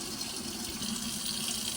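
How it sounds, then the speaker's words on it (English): A kitchen sink sprayer runs steadily, rinsing dye from a colored human hair lace top wig, a continuous hissing water stream with no talk. "I started using my sprayer as well to get a closer deposit of water to get the color out."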